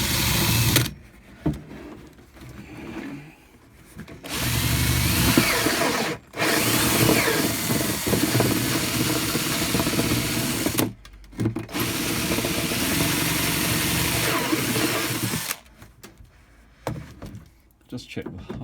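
Power drill with a step bit boring holes in plastic bottle caps for wormery aeration fittings, a loud close whine in several long bursts broken by short pauses, with a brief remark from a man between runs.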